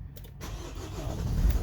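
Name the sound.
Renault Master 3 van engine starting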